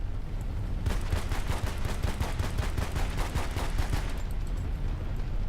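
Rapid gunfire in the video game Battlefield: Bad Company 2 during a free-fall sequence, a loud burst of automatic shots in a fast, even rhythm lasting a few seconds over steady game background noise.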